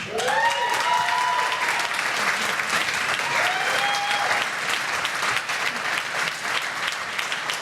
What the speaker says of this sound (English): I was so overwhelmed by the applause, it made me go blank.